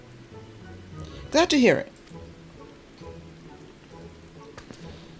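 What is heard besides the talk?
rain in the video game Final Fantasy XIV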